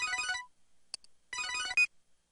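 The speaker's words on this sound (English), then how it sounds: "Hey, isn't that your phone?" A mobile phone in the handheld game Devil Survivor 2 rings with a chiptune ringtone, bright repeating electronic tones in two short bursts separated by silence and a couple of small beeps.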